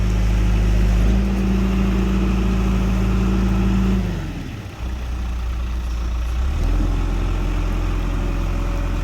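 A new skid steer's engine idles with a steady low drone, dies away midway, then restarts and resumes its idle.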